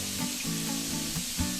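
Garlic fries to golden in a pan for Peruvian pork adobo, a steady close sizzle and crackle with soft stirring under a faint tonal hum, no one speaking.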